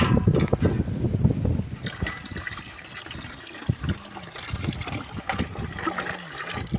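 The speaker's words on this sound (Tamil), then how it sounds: "அளவுக்கு தண்ணி ஊற்றிக்கிறோம்" Water splashes and trickles into dragon fruit juice in a container, a loud pour at first that settles into softer gurgling and dribbling.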